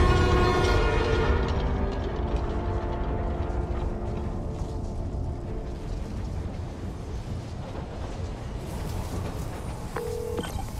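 A New York subway train in the video game Spider-Man: Miles Morales rumbles and screeches along the tracks, loud and close, with metallic grinding and a short tonal beep near the end.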